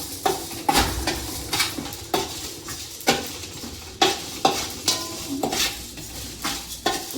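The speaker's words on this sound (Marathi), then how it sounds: "जिरा टाकायचे, सोप टाकायचे, याने भाजायचे चांगलं" Cumin, fennel and coriander seeds dry-roast in a pan for homemade poha chivda, with a spoon scraping and stirring in repeated strokes roughly every half second over a soft sizzle, close up and without voices.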